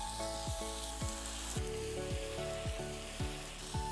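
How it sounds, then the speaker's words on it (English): Wine hitting browned meat in a hot pan while cooking lasagna al forno, a steady close sizzle and bubbling heard under rhythmic background music. "Now it's time to deglaze with some wine."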